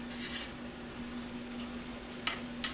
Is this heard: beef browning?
yes